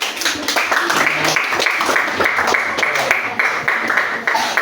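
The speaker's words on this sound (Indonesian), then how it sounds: "Tepuk tangan sebelumnya." Classroom applause for a discussion group about to present, a steady patter of many hands clapping throughout, with voices mixed in.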